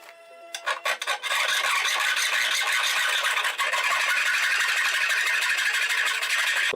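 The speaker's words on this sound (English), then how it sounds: "file the edges of the frets so that they're not at all proud of the binding" A metal file rasps along the edges of guitar frets on a bound fretboard, starting with a few short strokes and then settling into a steady, close, dry scraping.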